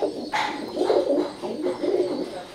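A Teddy pigeon of Oman bloodline coos close by in repeated low, rolling phrases, several distinct coos in a row with no other voices.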